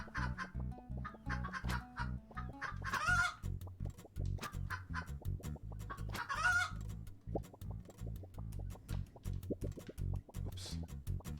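Chickens attack in the video game Turnip Boy Commits Tax Evasion, clucking in rapid rhythmic bursts with a couple of sharper squawks over a bouncy game soundtrack.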